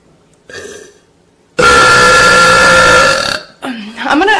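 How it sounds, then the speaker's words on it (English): Two loud, drawn-out burps close to the mic, a short one followed by a long rumbling belch, then a brief voice sound at the end. "I think my neighbor can hear me burp."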